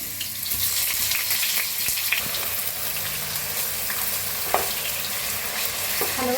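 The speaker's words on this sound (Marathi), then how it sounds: "तेल आपलं चांगलं गरम झालं आहे बटाटो टाकूया तेल आता छान असे भाजून घेऊया बटाटो" Potatoes frying in hot oil in a kadhai, a loud continuous crackling sizzle close up, with a few faint clinks and stirring touches and no voices.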